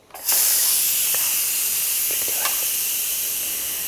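An Instant Pot pressure cooker vents steam in a loud, steady hiss that bursts on abruptly and holds strong throughout, with a few faint clicks in the background.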